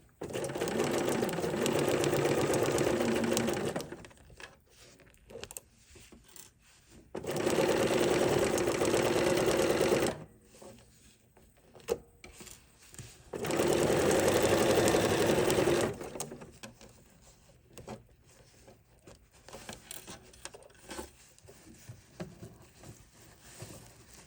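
A sewing machine stitches a fabric potholder in three steady, rapid runs of needle chatter, each lasting a few seconds and separated by quiet pauses.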